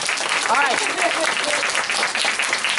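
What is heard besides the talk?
audience applause for school puppet show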